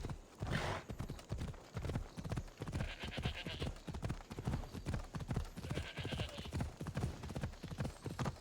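A horse galloping in Assassin's Creed Odyssey, heavy hoofbeats pounding in a steady, rolling rhythm close by, loud and sustained across the whole stretch with wind and game ambience around it.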